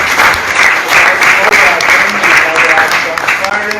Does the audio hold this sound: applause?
yes